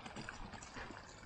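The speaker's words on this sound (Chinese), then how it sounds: "这个水咕嘟咕嘟往下冒啊。" Hot spring water welling up from a natural spring vent outdoors, a steady close gurgling and trickling wash that runs unbroken through the short stretch.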